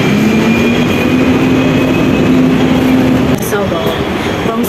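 A Hong Kong tram running from Causeway Bay toward Wan Chai rolls past with a steady rumble and a rising whine, then a clunk and fading rattle, amid busy street noise.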